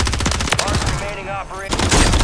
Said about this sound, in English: Taking fire, man.